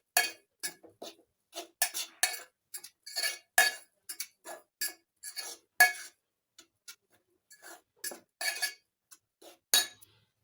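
Flour and sugar are stirred together in a bowl for homemade pancakes, a utensil clinking and scraping against the bowl in short, irregular bursts, close and fairly quiet, with no voices.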